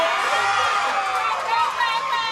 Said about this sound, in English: The crowd is screaming for Ivy here